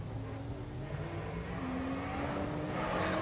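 Formula Drift cars at Atlanta, including a big V12 Ferrari, rev and whine in a faint, rising engine drone heard from a distance, with no talk over it.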